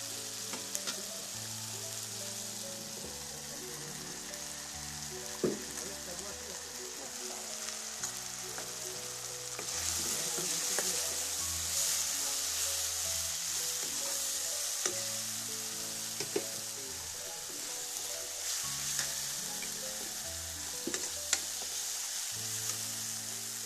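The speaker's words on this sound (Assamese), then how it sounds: "আৰু এই তেলতে অলপ মছলা দি দিম।" Spices sizzling in hot oil, a steady close frying hiss with occasional pops, while soft music plays underneath throughout.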